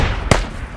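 Frag grenade blasts in the military shooter game Squad: two sharp, heavy booms about half a second apart over a loud, rumbling battlefield background.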